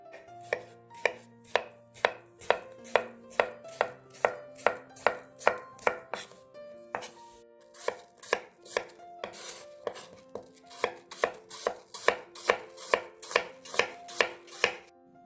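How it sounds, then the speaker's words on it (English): Quick, even knife chops through peeled cucumber and apple on a cutting board, two long runs of crisp taps separated by a brief pause, close and clear with no voices. "now we are going to chop it up"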